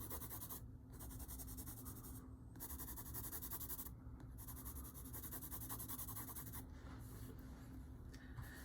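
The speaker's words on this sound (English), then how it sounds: "And then I could fill those in with the side of my pencil." Side of a pencil shading across paper while filling in shadows beneath drawn pears, a steady close soft scratchy rubbing that continues throughout, with brief pauses as the pencil lifts.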